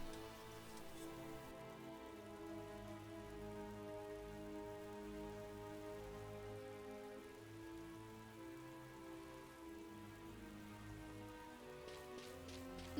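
Steady rainfall in the Final Fantasy XII video game patters continuously on surfaces, soft and even throughout, with no talking over it.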